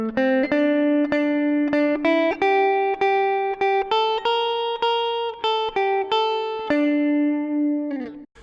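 Guitar picks out a film theme melody note by note, a steady run of distinct plucked tones with a brief pause near the end, close and clear with no voices.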